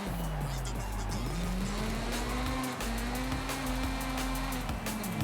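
A Mazda RX7 races in Forza Horizon 5, its engine droning steadily with pitch dips at gear changes while the tires squeal and skid as the rear end slides out.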